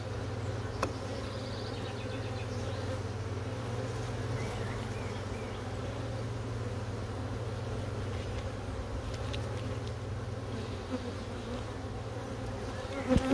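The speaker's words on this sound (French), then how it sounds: "Parce que j'ai tiré un essaim ici." Honeybees drone around a hive after the colony has swarmed, a steady, dense buzz of many insects close by that holds evenly throughout with no talking.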